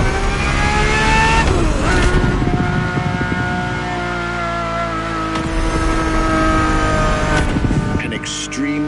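A race-bred car with a monocoque carbon fiber chassis roars in The Crew Motorfest, its loud engine note rising and shifting through gears continuously across the whole stretch, close and dominant with no talk.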